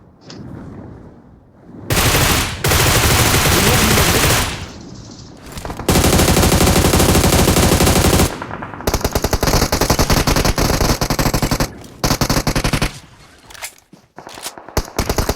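Bursts of rapid automatic gunfire and single shots come from a BGMI battle-royale match, loud and close, arriving in long sustained volleys separated by brief pauses.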